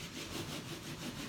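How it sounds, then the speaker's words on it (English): Hands rubbing against the ground produce a soft, continuous scratchy friction with a gentle back-and-forth rhythm, faint and close, with no voices. "And when you rub the hands on the ground"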